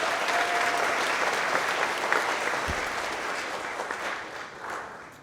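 Audience applause at a company celebration, a steady broadband clapping from a sizable crowd that holds for about five seconds and slowly tapers, with no talking over it.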